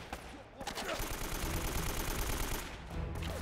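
Rapid gunfire from the action game Uncharted: Drake's Fortune, dense, loud bursts of shots and impacts that run continuously for about three seconds, packed with game combat noise.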